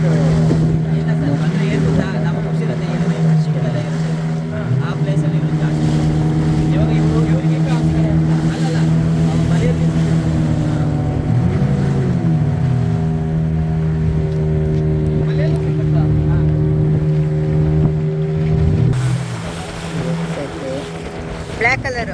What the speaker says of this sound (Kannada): ಎಲ್ಲ ಬೋಟ್ಗಳು ನೋಡಿ